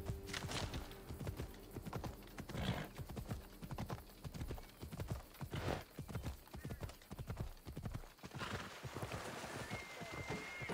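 Rapid rhythmic hoofbeats of a galloping horse in the video game Assassin's Creed Odyssey, repeating in quick bursts, with faint voices and a snort breaking in near the end.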